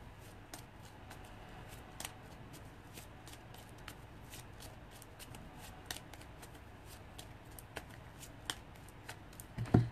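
A deck of fortune-telling cards is shuffled close by with a quiet, rapid run of riffling and flicking card taps, a louder rustle at the end, no talk.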